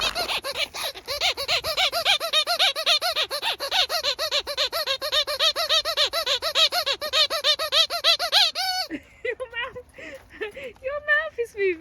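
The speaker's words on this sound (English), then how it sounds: "Your mouth is moving in time with a squeak." Squeaky dog toy squeezed over and over in a fast, regular rhythm, loud and close, the shrill squeaks running for several seconds before a few slower, uneven squeaks.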